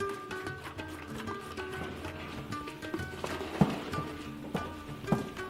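Domestic horses kept for meat and milk in Kazakhstan: scattered hoof clops and a few thuds sound over a steady low hum, moderately near but not loud.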